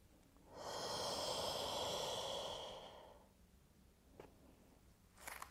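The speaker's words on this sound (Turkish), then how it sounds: "Nefes aldım." A slow, deep inhalation through the nose during a pregnancy shoulder and back stretching exercise, drawn out over about two and a half seconds and close to the mic, followed by quiet stillness and a few soft rustles.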